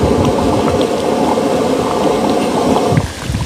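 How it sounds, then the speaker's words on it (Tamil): Tamarind kuzhambu boiling steadily in a pot on a medium flame, a continuous close bubbling and simmering that runs throughout, easing slightly near the end. "பாருங்கள், கொதி வந்துடுச்சு."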